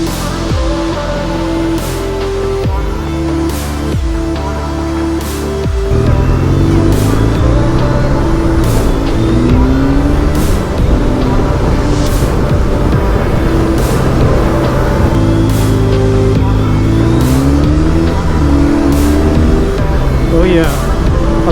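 Triumph Bonneville T motorcycle engine running steadily while riding through Amsterdam, a loud continuous rumble with shifting revs and gear changes, close and sustained for the whole ride.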